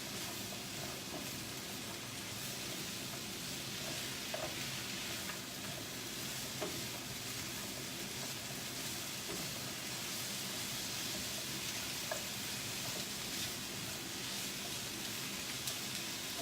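Vegetables for pasta primavera sizzle in a pan in olive oil: a steady, even hiss like light rain, faint and continuous, with a few small pops and no talking.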